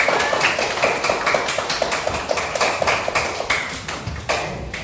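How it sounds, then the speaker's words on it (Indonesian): Classroom applause for a student group, a steady run of rhythmic clapping from several people nearby, fairly loud and continuous with no talk. "Tepuk tangan untuk kelompok 2"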